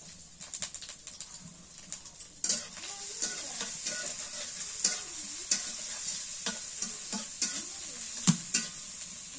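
Bitter gourd fries with a bright, constant sizzle in a pan while a spatula scrapes and clacks against it at uneven intervals, close, with faint bird calls in the background.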